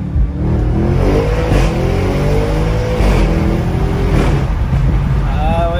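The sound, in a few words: Audi RS6 car accelerating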